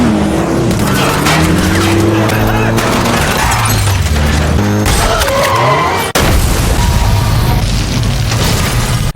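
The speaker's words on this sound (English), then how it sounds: "After one of the gang's cars rolled over" A gang's car crashes and rolls over during a movie chase, giving loud continuous crunching impacts and booming metal noise, with engine roar and a sudden cut partway through, under dramatic music.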